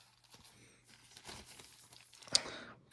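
Brief plastic crinkling and rustling as an Athearn Genesis Vermont Railway SD70M-2 model locomotive is slid out of its plastic wrapping, quiet and close, with one sharper crackle near the end.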